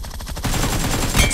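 Rapid automatic gunfire in a shooting video game with AKM and Groza rifles, a dense rattling burst that starts after a short quiet lead-in and runs loud and steady to the end.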